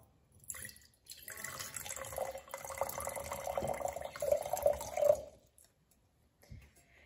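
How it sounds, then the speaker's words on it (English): Water runs and splashes steadily into a jar for about four seconds, filling it a quarter full, the pitch rising slightly as it fills, then stops; close and fairly quiet. "fill your jar up a quarter of the way with water"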